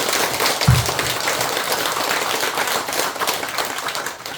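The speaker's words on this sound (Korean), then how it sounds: "감사하고 고맙다는 의미에서 큰 박수 한번" A Korean Buddhist temple audience applauds during a Dharma talk, with steady, dense clapping from a crowd, one low thump near the start, and the applause tapering slightly at the end.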